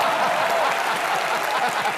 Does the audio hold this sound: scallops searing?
no